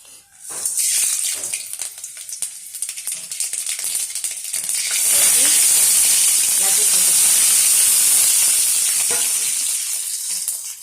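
Tempering seeds for tamarind rice hit hot oil and splutter, a loud hissing sizzle that rises sharply around the middle and holds steady with crackling pops, close and continuous.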